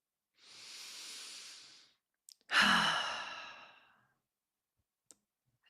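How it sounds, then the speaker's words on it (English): A deep breath taken during a guided healing meditation: a soft, steady inhale followed by a louder, breathy exhale, close and alone in an otherwise silent room, with a few faint clicks afterward. "Take a deep breath."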